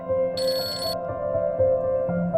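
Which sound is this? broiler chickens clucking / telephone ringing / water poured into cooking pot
telephone ringing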